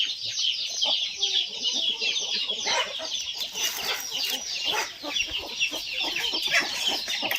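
Clucking from a jungle fowl cross hen, joined by other chickens, fills the whole stretch with steady, fairly close calls over a busy farmyard background.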